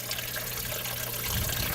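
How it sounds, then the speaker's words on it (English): An air stone bubbles and aerates the water in the deepest part of a hot tub used for aquaponics, giving a steady hiss of bubbling and gushing that swells slightly toward the end, with no voices. "That way it's got some nice bubbling action."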